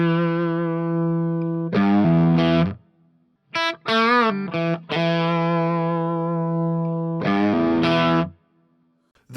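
Distorted electric guitar through a Fender Tone Master Pro preset playing a riff, thick sustained notes and chords separated by short gaps, with a quick bent phrase in the middle.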